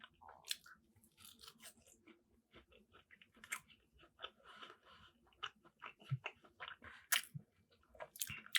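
Close, crisp chewing of a spicy fry, wet crunchy bites and squishy mastication repeating irregularly and fairly quietly throughout, with no talking.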